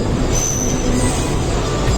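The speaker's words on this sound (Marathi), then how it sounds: "ट्रेनमध्ये बसले, जावेत बसले, ट्रेन पकडली आणि आता निघालेले आहे." A train rolls along steadily with a constant low rumble and a thin, high wheel squeal running over it, close and continuous, heard from inside the carriage.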